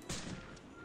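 A single short gunshot in a multiplayer shooter game, sharp but fairly quiet, with a brief echoing tail.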